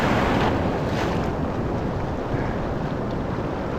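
Big overhead surf from a large Hawaii swell closing out at La Jolla, California: a continuous loud roar of breaking water and whitewater wash, with steady wind buffeting the microphone and no voices.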